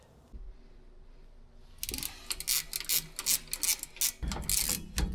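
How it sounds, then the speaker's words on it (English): An old Craftsman gear wrench ratcheting on a 1984 Ford F-150 while working toward the drive shaft, giving bursts of close, crisp clicking strokes in an uneven rhythm, with no one talking. "old Craftsman wrench, just really ain't that good. Like one of the first gear wrenches."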